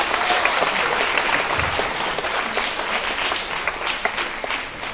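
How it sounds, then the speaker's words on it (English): An audience at a spelling bee claps steadily, a dense burst of applause from a crowd that holds for several seconds before thinning slightly. "Please give him a round of applause."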